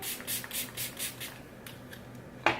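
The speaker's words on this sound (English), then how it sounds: "And setting spray one more time." Several quick misty bursts of makeup setting spray in a steady rhythm, close and fairly soft, fading off, followed by a sharper click near the end.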